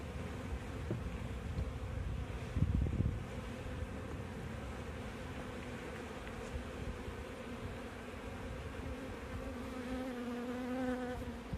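Honeybees buzz steadily inside an opened hive from a package colony during inspection, a dense close droning hum with individual bees passing near, a brief handling bump, no speech.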